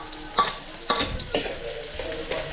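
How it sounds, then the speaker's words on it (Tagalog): Onions sauté in a pan with soft sizzling, broken by a few sharp clangs and scrapes of stirring at irregular intervals, close and fairly quiet. "Gigisa lang natin to"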